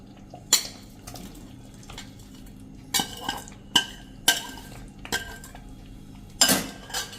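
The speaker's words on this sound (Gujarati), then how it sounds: "હવે આ સ્ટેજે આપણે જે આ ફ્લાવર અને વટાણાના સાંતળા છે ને એ પણ નાખી દેશું" Cauliflower and peas already sautéed are tipped into simmering gravy in a pan, giving a few sharp clinks and scrapes of a spoon against the metal at irregular intervals, fairly close, with no talking.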